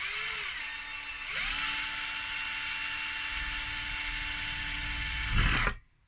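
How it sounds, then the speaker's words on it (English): A power drill bores through a part of a Peltier fan project, a steady loud whine that drops and rises in pitch near the start, holds for several seconds, then swells and cuts off abruptly. "Need to just drill that a tiny bit more."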